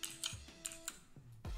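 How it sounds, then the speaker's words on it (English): Typing on an official Discord TKL mechanical keyboard with white switches, heard as crisp, clicky keystrokes in an uneven rhythm, close and quiet, with a few heavier thuds mixed in. "This is the official Discord TKL mechanical keyboard. This is a dark theme with white switches."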